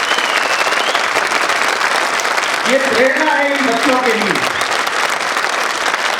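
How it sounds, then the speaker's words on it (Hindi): A school theatre audience gives loud, dense applause throughout, with someone speaking over the clapping partway through. "जोरदार तालियों से।"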